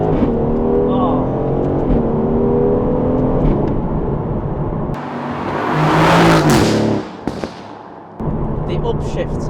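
Turbocharged Audi supercar pulling hard under acceleration with harsh, abrupt upshifts, the engine note rising then cutting sharply at each gear change, close and loud inside the cabin with voices talking over it.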